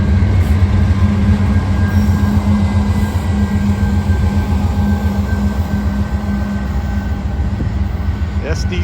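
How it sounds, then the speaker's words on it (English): Freight train M209 crossing a bridge, a steady loud rumble of rolling cars and wheels with a continuous low drone and faint metallic squeal near the end. "Going across the bridge where I just was."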